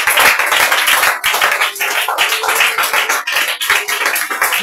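A church congregation at a prayer and teaching gathering in Yopougon claps together in a fast, steady rhythm, loud and close, with a brief pause in the clapping partway through.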